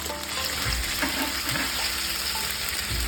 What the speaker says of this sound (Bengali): একটু ভালো হয়ে গেছে আদা জিরে পেস্টটা, এরপর দিয়ে দেবো টমেটো পেস্ট